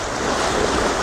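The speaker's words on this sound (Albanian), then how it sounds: "Shiko deti që ka bo" Sea waves surging and washing steadily, a dense continuous roar of surf with some wind buffeting the microphone, no voices.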